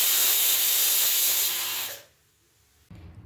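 A pressure cooker cooking vegetables for pav bhaji lets out a loud, sustained steam whistle that hisses for about two seconds, then cuts off into near silence before a low rumble returns.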